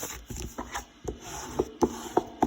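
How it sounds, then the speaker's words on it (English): Card stock for a pyramid-topped gift box being folded and burnished with a bone folder: a series of short rubbing and scraping strokes, close and moderately loud, in an uneven rhythm. "now what I'm going to do is actually fold and burnish all of these with the bone folder"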